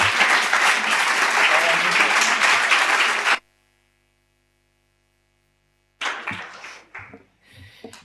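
An audience at a commemorative gathering bursts into loud sustained applause for a few seconds, then falls silent before another short round of clapping mixed with voices.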